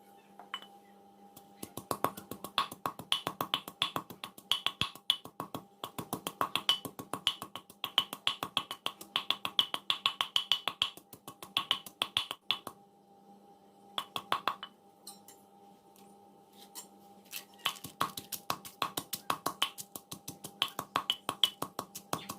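Rapid, sharp knocks repeat in bursts with short pauses as seasoning ingredients are pounded in a Thai mortar and pestle, over a steady low hum.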